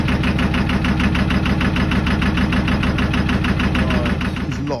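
A narrowboat's engine runs just after starting up, with the propellers spinning, producing a loud, steady, rhythmic diesel chug with a regular knock that carries on close and alone until it cuts off near the end.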